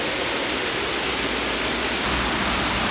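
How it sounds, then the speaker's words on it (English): Water rushes out of the Arizona Falls hydroelectric plant as a loud, dense, unbroken roar, close by and steady throughout with no voices. "that's the water coming out of the hydro plant right there"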